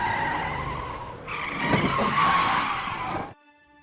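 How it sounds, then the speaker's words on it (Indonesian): A car tire bursts on an empty road, then tires screech in a long skid with engine noise, building loud then cutting off abruptly. "tak diduga ban mobil itu pecah mengalami ledakan"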